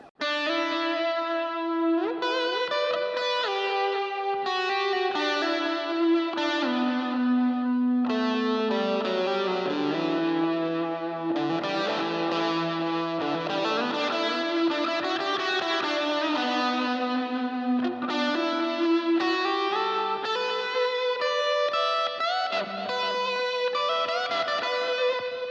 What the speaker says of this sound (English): And then all of them together, this is the sound that we've come up with, which might seem quite wet on its own